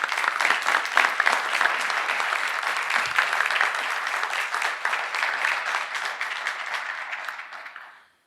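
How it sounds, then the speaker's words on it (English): An audience at a live panel discussion gives a sustained round of applause for the panelists, dense clapping that holds steady for several seconds before fading out. "I'd like to hear a round of applause for our panelists today."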